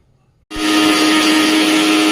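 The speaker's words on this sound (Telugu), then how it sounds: "గుమ్మడికాయ క్యారెట్ అల్లం ముక్కలు కలిపి గ్రైండ్ చేసుకోవాలి" A mixer grinder blending pieces of pumpkin, carrot and ginger kicks in abruptly after a brief silence, then holds a loud, steady, high-pitched whirring drone.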